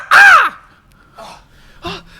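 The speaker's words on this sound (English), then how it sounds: "There's a black crow perched on the tree, on a tree branch, looking dead at them." A black crow perched on a tree branch caws: one loud, harsh call up close, followed by two softer, shorter caws.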